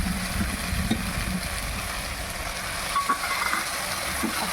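Vegetables with tomato stirred in a frying pan for Bengali shukto, a steady low sizzle and scraping across the whole stretch, with occasional small clinks of a spoon against the pan, close by and without talk.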